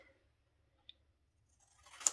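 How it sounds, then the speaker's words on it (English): Scissors cut card paper while a Stampin' Up tea boutique gift card set is being assembled, giving a faint click midway and then a short, louder snip burst at the end in a quiet room. "I'm going to get my scissors, and I'm going to cut it"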